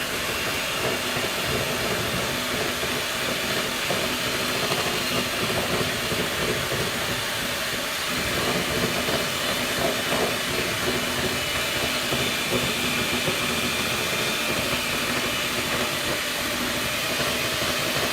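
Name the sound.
electric mixer whipping cream for no-bake cheesecake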